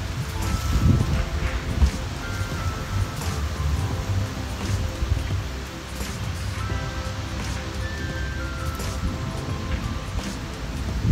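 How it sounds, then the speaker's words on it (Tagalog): Steady outdoor wind blowing through a calamansi orchard with rustling and gusty noise throughout, fairly loud and continuous, with no talking. "Medyo challenging na to kasi"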